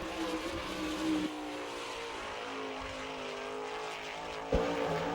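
Kenny Jacobs's number 6 sprint car runs a qualifying lap at the All Star Circuit of Champions in Attica, Ohio, in 2000. Its engine is a sustained, distant roar that rises and falls in pitch as it circles the track, with no speech.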